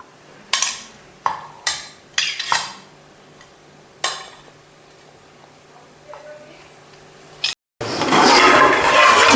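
A mixer grinder spinning up in its small jar to grind salted ingredients for a hotel-style chicken curry. Several sharp clinks of the jar and lid come first, then a loud, continuous grinding roar that fills the final seconds.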